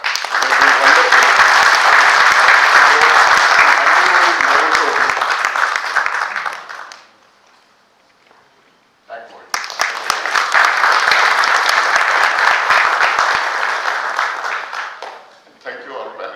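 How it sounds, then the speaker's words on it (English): Loud, dense applause from a panel-discussion audience, a sustained roar of clapping that breaks off into a short lull, then resumes strongly before tapering at the end. "So let us applaud for TAC."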